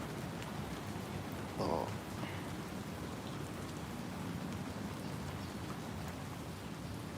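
Rain falls in a steady, dense patter on surfaces around an outdoor bale shelter on a dark hillside, with a brief faint voice.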